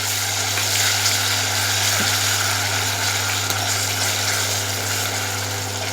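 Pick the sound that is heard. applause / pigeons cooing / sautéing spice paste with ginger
sautéing spice paste with ginger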